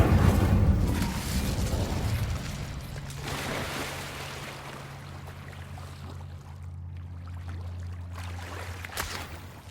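Incendio fire spell cast in Hogwarts Legacy in a spider-infested place, a loud whooshing burst of flame at the start fading into a low rumbling roar that drones on steadily with a faint thud near the end.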